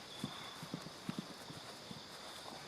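Hooves of a horse cantering around an outdoor arena, soft rhythmic clip-clop beats repeating in quick groups, moderately near but quiet, with a faint steady high background hum.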